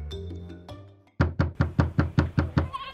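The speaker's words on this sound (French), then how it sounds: "Soudain, quelqu'un a frappé à la porte" Knocking on a door in a fairy-tale narration, a run of eight sharp, evenly spaced raps, loud and close, following a brief bit of soft music.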